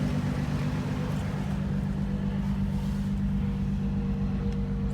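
A Nissan 350Z drift car engine idling steadily after a jump start, a continuous low rumble held at even loudness throughout, close to the microphone with no speech.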